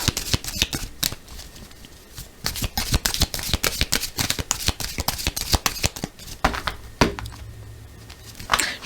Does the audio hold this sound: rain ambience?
no